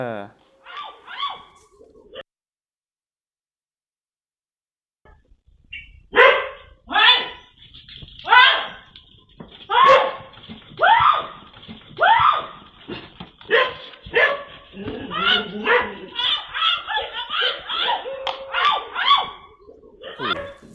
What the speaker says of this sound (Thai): หมาก็ เออ ไล่เห่าโจรนะฮะ